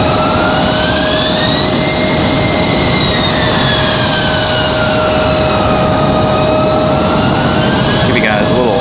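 A CRJ regional jet's engines whine loudly at Raleigh-Durham International Airport, with a steady high tone over a deep roar and shifting pitch as the aircraft moves nearby.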